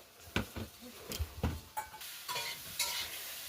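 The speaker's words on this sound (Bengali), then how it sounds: "ওপর থেকে আমরা পরিমাণ মতো একটু সরিষার তেল দিয়ে দিলাম মাছটিকে ভাজার জন্য" Mustard oil heats in a wok before koi fish go in, giving a quiet crackle broken by soft scrapes and clinks of a utensil against the metal pan.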